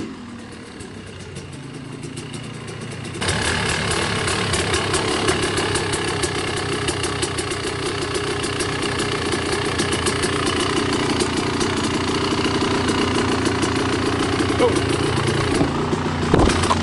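A 1994 Yamaha YZ250 two-stroke motocross bike, a retro factory replica, idles steadily and close up. After a quieter opening few seconds its engine jumps louder and keeps burbling evenly to the end.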